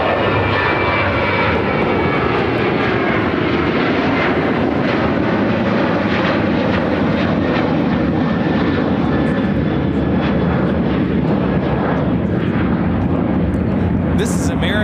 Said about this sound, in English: This is American Airlines 944 taking off to Bozeman on the 737-800